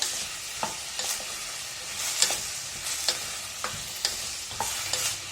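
Mixed vegetables for a Kerala-style vegetable stew, including cauliflower, sauté in a pan over high flame, a steady close sizzle broken by regular scraping stirs of a spoon against the pan, with no talking.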